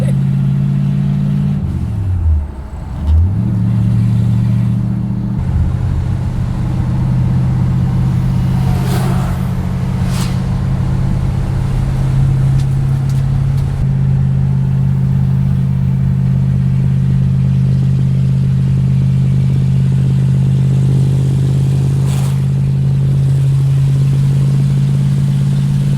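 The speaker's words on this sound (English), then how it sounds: "the first time this car's been down the road in probably at least 15 years" A 1964 Ford Galaxie 500, on the road for the first time in 15 years or more, drones with a loud steady engine note after a brief rev and shift early on, the cabin hum constant throughout.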